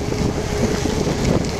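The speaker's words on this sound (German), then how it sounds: "Der Wind bläst ordentlich." Strong headwind roars steadily across the microphone while cycling downhill on a street in Horrem, a continuous loud rushing buffet with no talk.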